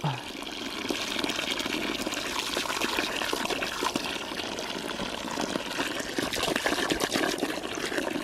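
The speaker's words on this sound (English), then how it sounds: "Maverick and Goose, you guys waiting for water? There you go. Fill her up" Steady rushing water runs continuously, like a container being filled from a spout, fairly close and even throughout.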